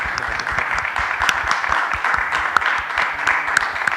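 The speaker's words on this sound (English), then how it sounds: "big round of applause for all of our participants" An audience applauds participants at a School of Bhakti live event, a steady round of many hands clapping that carries evenly through the whole stretch, fairly close and sustained.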